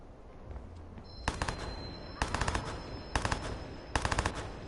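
Machine gun fire in the video game Watch Dogs comes in four sharp, rapid bursts spaced about a second apart, crisp and fairly loud over a quiet game background.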